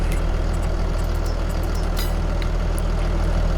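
A tractor in Farming Simulator 22 idles with a steady, loud low rumble and fine rhythmic engine pulsing throughout, with a few faint clicks over it and no talking.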